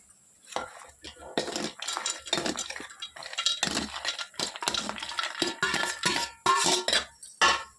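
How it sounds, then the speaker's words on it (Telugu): Metal spoon scraping and clinking against a steel mixer jar as fried ginger, tamarind, tomato and chilli are added for peanut chutney, with repeated irregular taps and clatters close by. "కూల్ అయిపోయాయి కదా ఇప్పుడు వీటిని మిక్సీ జార్లో వేసుకుందాం"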